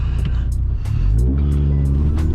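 A modified Vauxhall Astra VXR, front-wheel drive with traction control off, drones with a loud, steady exhaust rumble on a country lane, rising in pitch as it accelerates, with light repeated ticks over it.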